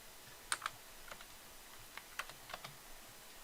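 Keystrokes on a computer keyboard while coding a Spring Boot model class, sparse and light, a few quick clicks scattered alone with no talking.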